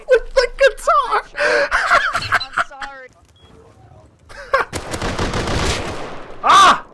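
Rapid bursts of MP5 and Tommy gun fire in the survival game Rust, loud close volleys in the first seconds then a sustained stretch of shots, with excited players shouting over the gunfire.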